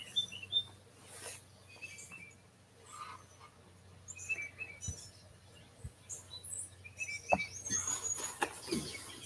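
Faint birds chirp and tweet intermittently outdoors, scattered high calls over a quiet background with a few soft knocks.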